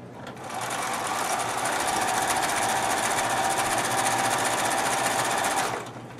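A sewing machine chain stitching along the edge of two pieces of fabric placed right sides together, a loud, fast, even mechanical whir that starts up, runs steadily for about five seconds, then stops.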